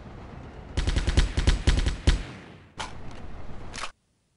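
Close, loud bursts of automatic gunfire in Delta Force 2: a rapid run of about ten shots, a short gap, then two shorter bursts before it cuts to silence.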